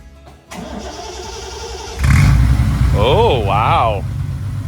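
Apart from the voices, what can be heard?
1973 Triumph TR6 engine starting and idling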